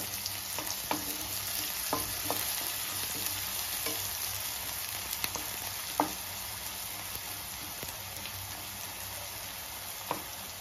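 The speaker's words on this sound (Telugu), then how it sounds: "ఉల్లిపాయలు బ్రౌన్ కలర్ వచ్చేదాకా వేగాలి" Onions fry in a pan for chicken sherva, a steady low sizzle with scattered crackles and pops throughout and no voices.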